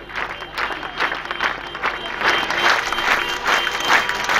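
A crowd gathered in front of a police station claps in a steady, measured rhythm, pulses of applause rising and falling, with faint voices mixed in.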